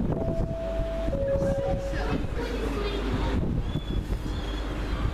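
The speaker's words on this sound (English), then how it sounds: "Here comes my train, the 1951 London Midland service from Crewe to Northampton." A 1951 London Midland service from Crewe to Northampton pulls into Stafford station with a low rolling rumble and a brief steady tonal whine early on, under wind-buffeted ambient noise.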